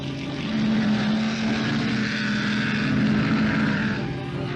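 A 1960s Formula One Cooper Maserati races hard, its engine giving a steady, droning high-revving tone with a slight rise and fall, sounding a little distant and muffled, with no voices over it.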